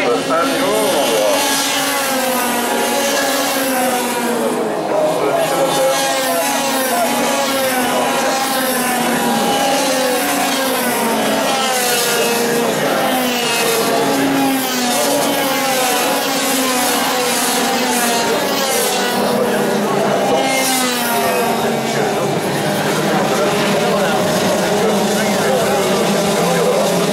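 IAME X30 junior racing karts drone around the track during the final, a continuous buzzing two-stroke engine whine with shifting pitch as several karts pass, while a commentator talks over it.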